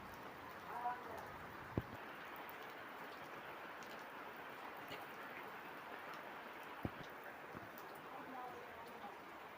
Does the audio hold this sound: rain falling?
yes